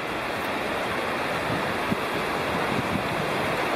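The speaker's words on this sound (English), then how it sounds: "Here's the river." A river in the Great Smoky Mountains near Walnut Bottoms rushes steadily close by, a constant broadband wash of flowing water with no voices.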